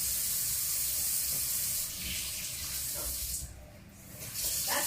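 Cold water runs steadily from a kitchen tap with a broad hissing splash, briefly softening before it picks up again.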